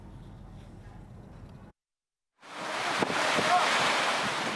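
Faint rumble, a short silence, then loud roaring surf and gusting wind sweeping across the microphone for the rest, on a rough sea during Cyclone Remal in coastal Bangladesh.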